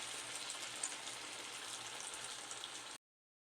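Wheat flour appam frying in hot oil: a steady, bright, close sizzle and crackle with small pops, ending abruptly, and no one talking.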